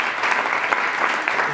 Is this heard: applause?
yes